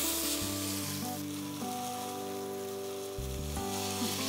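A spice paste of tomato, dried red chili, chili powder and green chili fries in a pan with a constant bubbling sizzle. A few low stirring thumps sit under it, and there is no talking.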